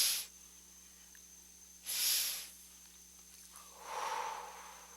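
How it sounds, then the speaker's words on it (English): Someone takes two quick nasal sniffs in and then exhales slowly through pursed lips, close and soft, with a near-silent pause between the breaths. "Double inhale nose, exhale through your pursed lips."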